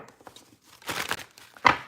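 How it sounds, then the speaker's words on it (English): Tarot cards are shuffled in short papery bursts: scattered light riffles, then a louder flurry, then one final crisp snap. No voices. "Let's do one more shuffle here."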